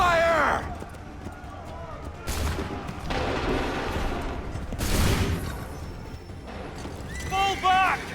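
Volleys of musket fire in the Assassin's Creed III video game, loud bursts of gunfire rolling out in several waves amid battle noise, with shouted orders in between.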